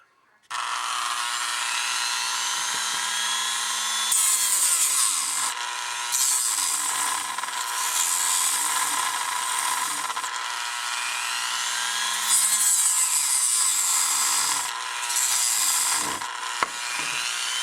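A Dremel rotary tool cuts into the plastic housing of a LITESUN six-outlet power strip, a sustained close whine with its pitch dipping and rising as the blade bites, breaking off briefly a few times.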